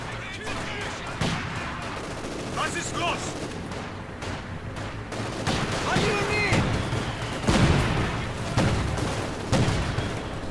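Battlefield gunfire and mortar rounds in the real-time strategy game Company of Heroes 2, steady rattling small-arms fire with several dull booms of mortar impacts, mid-distance, under someone commentator's continuous talk.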